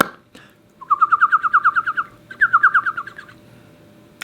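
A person imitates a bird call by voice, producing two quick rhythmic runs of bright chirping notes, close and fairly loud, separated by a short pause.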